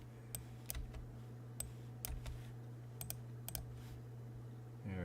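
Someone types a username on a computer keyboard, producing sparse, irregular key clicks, some single and some in quick pairs, close and faint over a low steady hum, with a brief rustle near the end.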